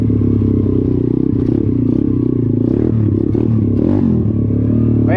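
A 125 RS Factory motorcycle engine revs loud and close in a forest, a steady buzzing two-stroke drone that rises and falls slightly as the throttle works, with rattling mechanical clatter throughout and no talk.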